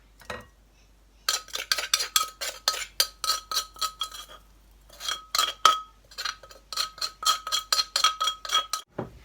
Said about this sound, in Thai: มาผัดพริกกันก่อนค่ะ